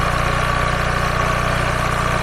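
A Honda Vario 110 scooter engine with an air-intake problem runs unsteadily, its loud, close idle pulsing with a rough, rhythmic throb that never settles, no one speaking.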